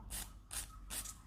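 A hand file rasps against a small cured resin piece in three quick, close back-and-forth strokes, crisp and scratchy with nothing else heard.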